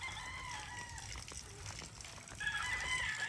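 Broodstag roosters and pullets on a farm, with steady clucking and chatter from a flock, a faint crow-like call now and then, and brighter, louder bird calls near the end.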